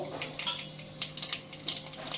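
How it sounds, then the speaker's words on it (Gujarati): Mustard seeds dropped into hot oil for tempering on the stove, a rapid scatter of sharp little pops and crackles, close and fairly quiet, with no talking. "ચાલ આપણું તેલ ગરમ થઈ ગયું છે હવે આપણે એક ચમચી રાઈ નાખીશું"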